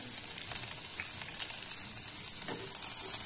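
Garlic sizzling in a small amount of hot oil for an Indian tadka while making veg momos, a steady crackling hiss with scattered pops, fairly quiet and close, without speech.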